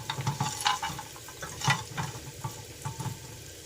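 Whole biryani spices dry-roasting in a hot pan give off soft crackling sizzles, with a spoon scraping and stirring in irregular bursts; close and fairly quiet, no talking.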